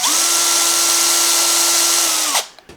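A power drill whines steadily for over two seconds, boring P90 pickup cavities into a guitar body, then winds down and stops, followed by a couple of small knocks.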